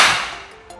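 A single sharp crack from a Black Mamba P355 air rifle firing one shot despite a sticking piston, loud and close, with a quick fading tail and no talking.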